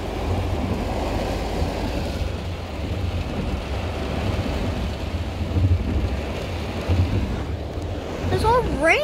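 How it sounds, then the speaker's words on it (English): Heavy rain roars steadily with a deep rumbling undertone, a continuous dense wash of noise throughout, with brief voices near the end. "It's all rain."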